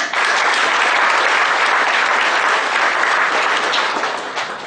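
An audience at a one-day income tax workshop claps for the guests, a loud, dense, sustained round of applause that holds evenly and tapers slightly at the end, with no talk.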